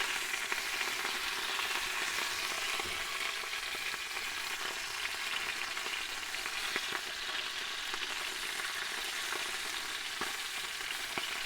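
Sausages frying in a pan outdoors, a steady crackling, spitting sizzle with scattered sharper pops, moderate and continuous throughout with no voices.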